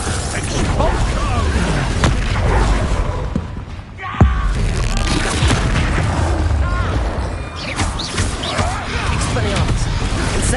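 Blasting spell explosions and magical combat effects from Hogwarts Legacy on PS5, booming thuds and crackling impacts over a dense busy battle mix, with a sharp burst near the middle and shouted spell voices throughout.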